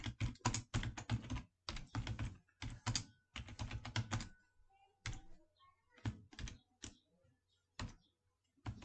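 Fingers type on a computer keyboard to fill in an online scholarship application form, close and clear, in quick bursts of clattering keystrokes broken by short pauses and a few isolated key taps.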